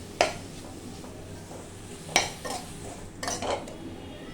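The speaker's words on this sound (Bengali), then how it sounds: "সবজিটা সম্পূর্ণ ভাজা ভাজা হয়ে গেছে। এবার দিয়ে দেবো গ্রেট করা আলু।" Grated potato goes into a pan of frying vegetables for a vegetable chop, bringing a few sharp metallic clinks and scrapes of a utensil on the pan over a faint low sizzle, in three separated bursts.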